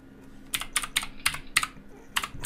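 Keys on a computer keyboard clatter in short bursts of a few quick taps separated by small pauses, close and clear with no talk.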